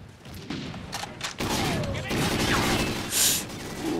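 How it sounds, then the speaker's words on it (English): Bursts of gunfire in the Call of Duty Ghosts video game rattle close by as a rapid run of shots and thumps, with a brief louder crack near the end. "those are bullets, and they are in my area"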